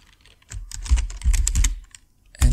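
Keys clatter on a computer keyboard while a WordPress opt-in sign-up form is filled in, with two dense bursts of close, fast typing separated by a pause and a final quick cluster of keystrokes.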